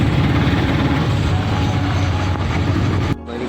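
An autorickshaw engine runs in a steady, dense low chug near the microphone at a workshop in rainy weather, holding an even throb for about three seconds before abruptly dropping away.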